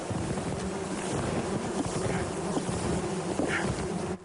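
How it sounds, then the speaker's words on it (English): A few thousand honeybees from a captured swarm buzz steadily inside a box, a dense continuous hum heard close up with some outdoor wind noise and no talking. "box is buzzing with a few thousand bees"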